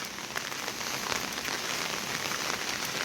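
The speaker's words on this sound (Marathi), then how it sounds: "आणि आज सकाळपासून आहे ना पाऊस खूपच जास्त आहे." Heavy monsoon rain pours steadily onto surfaces in the Konkan, a dense, even hiss of drops with no pauses.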